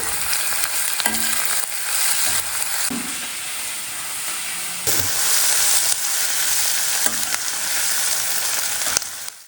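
Onions with a little salt frying in a pan sizzle steadily up close, broken by repeated scraping strokes of a spatula stirring them, with no talking.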